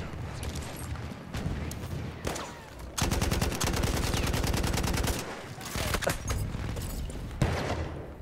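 Gunfire aimed at a tank in the video game Battlefield 1, on the Monte Grappa map: scattered loud shots, then about two seconds of fast, evenly spaced automatic fire, then more irregular bangs. A voice is faintly present.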